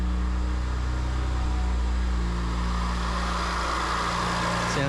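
A car with a newly installed blow-off valve and intake idles just after a push-button start, a loud, steady low engine hum up close.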